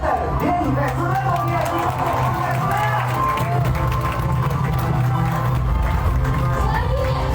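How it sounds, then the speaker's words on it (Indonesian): Ballroom gathering audience applauding as a guest enters, a busy crowd of clapping and cheering mixed with loud music and a voice over a sound system, sustained throughout. "boleh diberi tepuk tangan yang sangat meriah kepada Dr. Denny Pesunato"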